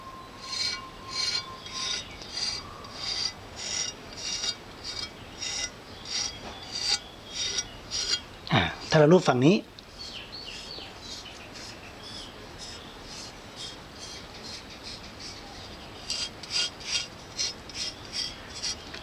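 A machete is hand-sharpened to a convex lotus-petal edge with steady, rhythmic rasping strokes of file or stone against the steel, close and fairly loud. A brief harsher scrape falls midway and a voice speaks briefly.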